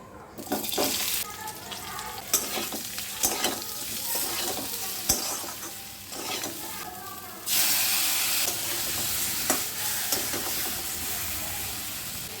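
Loud, steady sizzling as potatoes and spices are sautéed in a hot pan, with repeated scraping and clattering of a stirring spoon throughout.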